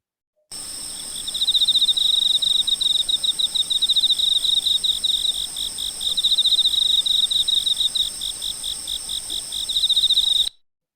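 A cricket chirps in rapid, steady pulsing trills, loud and close, continuing for about ten seconds with no other sounds.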